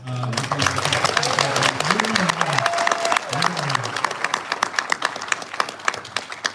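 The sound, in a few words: audience applause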